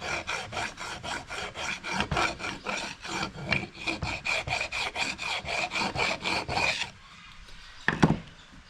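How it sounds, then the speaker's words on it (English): A flat file rasps in quick, even back-and-forth strokes across the flat face of a part from a V8 Holden Torana, close and rhythmic, then stops, followed by a single faint scrape. "So, just get a file, nice flat one. Just rub it across there."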